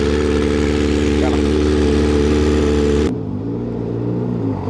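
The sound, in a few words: loud motorcycle exhaust with dB killer installed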